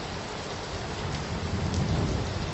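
Steady, dense rainfall fills the whole stretch, close and even, with a low rumble beneath that suggests distant thunder; no voices.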